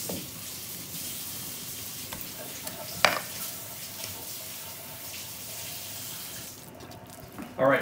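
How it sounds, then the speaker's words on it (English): Hummus mixture being stirred after water is added, a steady wet scraping and swishing that continues throughout, with a sharp clink partway and a louder knock of the utensil near the end. "Keep going until it's all the way mixed."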